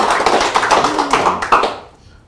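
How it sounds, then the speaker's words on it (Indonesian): Audience clapping at an Indonesian talk session, a dense spread of hand claps at moderate loudness that thins out and fades toward the end. "Tepuk tangan yang meriah dulu untuk"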